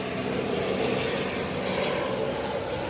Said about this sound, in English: That is a black and white helicopter